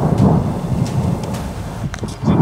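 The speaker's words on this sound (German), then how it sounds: "wie die Blitze hier knallen" Thunder rumbling from lightning strikes during a German thunderstorm with heavy rain, a loud continuous low roll over steady rainfall with no talking.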